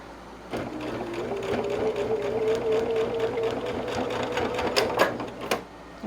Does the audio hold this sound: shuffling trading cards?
no